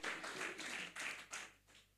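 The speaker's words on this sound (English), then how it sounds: "Let's clap for Jesus." A small congregation at a church talk claps together, a few loud rhythmic bursts of hand claps in quick succession that trail off at the end.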